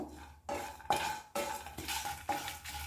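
Jackfruit seeds, coconut and curry leaves are stirred in a pan, with repeated scraping strokes of a spoon against the metal over a soft sizzle, close and fairly quiet.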